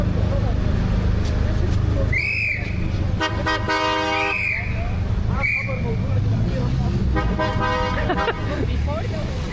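Car horns honk repeatedly in chaotic city traffic, loud blaring toots and sustained blasts overlapping amid whistles, engine noise and a background hubbub of voices.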